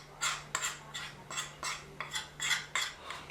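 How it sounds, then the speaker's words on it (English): Utensil scraping and clinking against a bowl as sweetened condensed milk is stirred into a melted chocolate mixture, a steady run of about eight rhythmic strokes, close and fairly quiet with no talk. "And just mix that all together until it's smooth."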